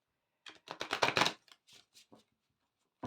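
Tarot cards being shuffled by hand, a quick flurry of crisp riffling snaps that builds and then trails off into a few softer shuffles, close and alone with no talking.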